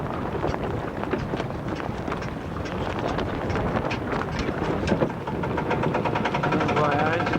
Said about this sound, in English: Right, our engine started